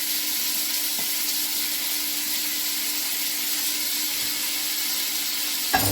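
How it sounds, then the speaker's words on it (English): Mixed vegetables sizzle in a pot of sauce for a chicken and vegetable stir fry, a constant loud hiss of frying that runs steadily throughout, with a brief clunk near the end. "In the same sauce, in the same pot, I'm going to add my mixed vegetables."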